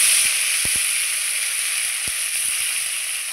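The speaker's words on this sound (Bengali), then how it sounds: "আমার এইদিকে ইলিশ মাছ ভাজা হচ্ছে" Hilsa fish pieces coated in salt and turmeric frying in mustard oil, giving a steady close hiss and sizzle that runs the whole time, with a few faint clicks of the pan and no talking.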